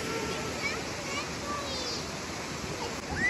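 A waterfall on a river in upstate South Carolina gives a steady, close rushing wash of water, with children's voices chattering over it.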